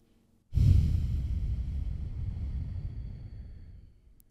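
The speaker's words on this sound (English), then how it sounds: "Exhale for five." One long, slow exhale during a breathing exercise, breathy and close, starting suddenly after a moment of silence and gradually trailing off over several seconds.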